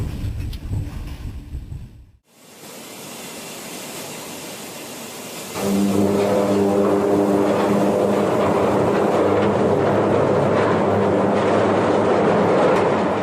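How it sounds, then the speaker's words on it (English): A loud, rumbling train clatters along, briefly dropping away before surging back with heavy metallic grinding and clanking as derailing cars smash into the halted locomotive. "the locomotive came to a halt, and the remaining cars continued to move, smashing right into the front of the train"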